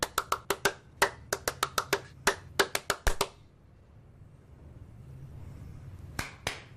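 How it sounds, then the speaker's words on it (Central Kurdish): Sharp claps with the palms of the hands in a quick uneven run of about twenty close, crisp strikes, then a pause and two more claps near the end, with no talk. "ئێستا بە لپی دەست چەپڵ لێدا"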